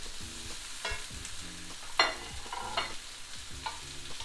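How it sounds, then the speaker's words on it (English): Bacon fries in a pan alongside peppers and mushrooms, with soft sizzling under repeated scraping and stirring strokes, one sharper clatter midway; no talk. "And now you fry the bacon for another 5 minutes or so."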